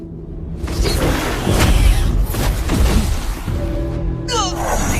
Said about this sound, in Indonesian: Alhasil ledakan pun terjadi membuat baik King Lu maupun si kadal juga terpental.